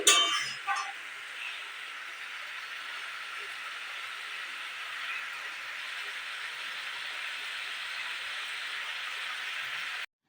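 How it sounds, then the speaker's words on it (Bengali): Dishes being rinsed and washed at a kitchen sink: a steady hiss of running water with a few clinks of metal pots and plates near the start, continuing alone. "দেখো আমি কয়েকটা বাসন ছিল সেগুলো হচ্ছে ধুয়ে নিচ্ছি"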